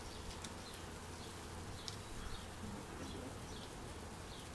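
Honey bees swarm around a beehive, a dense continuous buzz that fills the scene, with individual bees whining past close by now and then.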